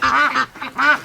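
Ducks in their pen give three quick, loud, nasal quacks close by, in a short burst with no talk.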